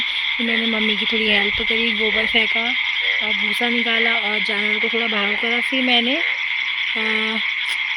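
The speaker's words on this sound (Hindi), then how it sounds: "अभी पीछे से आपको मेंढकों की आवाज़ सुनाई देती होगी," Frogs croak from a rain-fed paddy field in a rapid, rhythmic chorus of repeated calls, fairly close and continuous beside steady insect buzz, while someone talks over them throughout.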